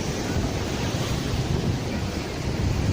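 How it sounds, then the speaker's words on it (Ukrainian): Sea waves on the Azov Sea coast at a village shore, a steady broadband wash of surf with wind buffeting the microphone, continuous and fairly loud, with no talk. "море хвилюється"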